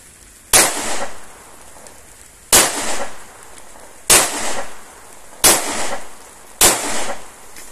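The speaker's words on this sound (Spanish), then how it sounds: "vamos a hacer unos disparos" Five sharp shots from a Córdoba Indumil pistol fired one at a time about a second and a half apart, each a loud crack followed by a short ringing echo, with no talking.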